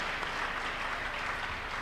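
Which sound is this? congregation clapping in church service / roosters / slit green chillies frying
congregation clapping in church service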